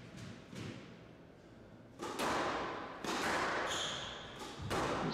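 Squash ball struck onto the front wall during serves in a pro squash match, giving several sharp thuds and slaps spaced a second or so apart, moderately close, over faint court ambience.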